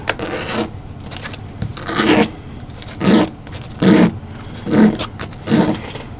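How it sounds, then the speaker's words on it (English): Rhythmic rasping strokes of sandpaper rubbed by hand over the outer edge of a small wooden windmill part, about six even back-and-forth passes, close and fairly loud. "I'm only sanding and waxing the outer edge."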